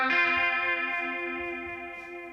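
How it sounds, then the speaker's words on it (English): Sustained guitar chord treated with a warm, wavering chorus effect, ringing on and slowly fading over a soft, quiet background, with no talking. "That lingering sound is amplified further by a chorus effect, giving it this warm, oscillating tone."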